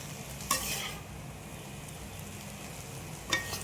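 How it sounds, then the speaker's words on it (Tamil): Chicken noodles with gravy sizzle gently in a pan as a utensil stirs them, with two brief scraping strokes over a continuous soft frying hiss and no talking. "அந்த கிரேவி எல்லாத்துக்கும் வர மாதிரி நல்லா கிளறி விட்டுக்கோங்க."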